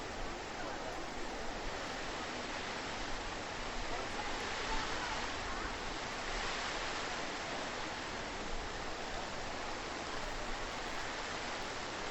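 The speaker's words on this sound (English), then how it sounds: "Hence the fountains, carved into the faces of lions, roaring water back into the canal." Lion-faced stone fountains pour water into a canal, making a steady, even, broadband rush that holds unchanged throughout at a soft, distant level.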